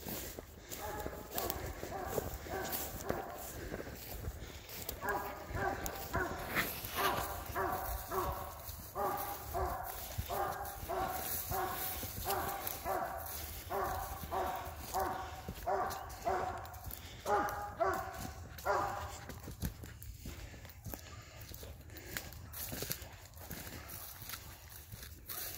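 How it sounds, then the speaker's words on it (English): A dog barks in a steady run of repeated, drawn-out calls that carry from some distance, like a hound at a tree a few hundred yards off, over constant outdoor background noise. "There's the dog."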